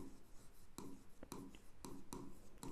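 A pen writes by hand on paper, with soft continuous scratching broken by several sharp taps and strokes at an uneven rhythm, close and quiet, with no voice.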